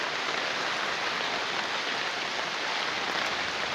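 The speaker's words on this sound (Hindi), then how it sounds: "अभी भी और जोर से बारिश आ रहा है।" Heavy rain pours down steadily, a dense, continuous hiss of drops drumming on surfaces close by, with no voices.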